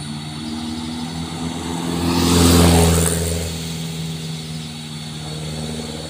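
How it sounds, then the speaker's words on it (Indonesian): Tanker truck's diesel engine droning steadily while being towed uphill, a loud continuous low rumble that swells and then settles back, heard alone without talking. "ini dia penarikan truk tangki"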